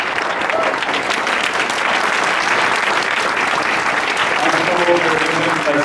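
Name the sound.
audience applause after film screening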